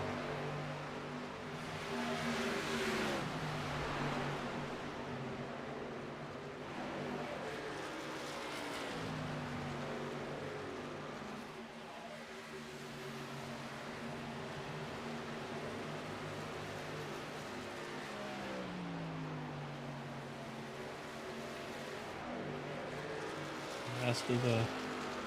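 Several video game racing truck engines drone and rise and fall in pitch at a distance as they enter the pits, overlapping in a steady mechanical hum with a brief louder burst near the end.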